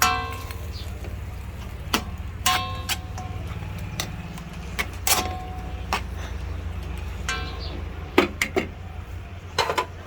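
A metal cooking pot is covered with its lid while making adobo and sinigang, giving sharp clanks and clinks of lid on pot over a low steady hum, several knocks spread across the moment, with no clear talking.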